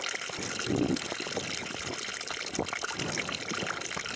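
Water from a holy spring trickles and splashes continuously at close range, a steady bubbling flow with a brief heavier gush near the start.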